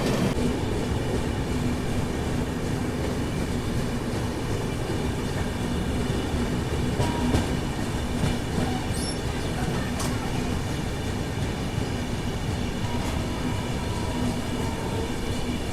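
The Godavari Superfast Express train drones continuously with a heavy rumble and rhythmic rattling, steady and close throughout with no voices.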